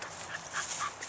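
A dog whimpers in short, high, tonal cries while playing with an automatic ball launcher, several brief whines close by over a steady background hiss.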